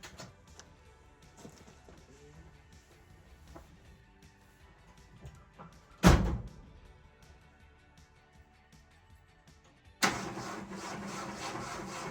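A 1967 Mercury engine with slightly retarded timing is cranked to start, heard as a sharp loud burst midway and then a sustained rough running or cranking noise near the end over a quiet shop background.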